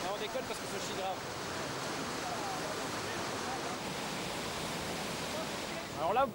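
Water rushes steadily down a river cascade in Corsica, heard as a dense, unbroken roar that fills the whole stretch, with a faint voice briefly surfacing near the end.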